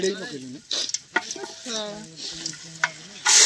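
Cumin and chillies dropped into hot oil, giving short bursts of sizzling and crackling between stirring sounds, close and fairly quiet, with a voice speaking over them.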